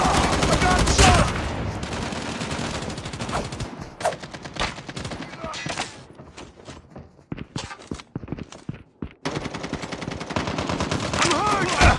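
Rapid gunfire crackles through a Call of Duty Mobile match played on an iPhone 11 Pro, with dense bursts of shots and clattering impacts, a brief lull in the middle, then heavy firing again, loud and close.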